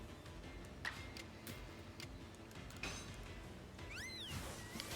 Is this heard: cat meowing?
yes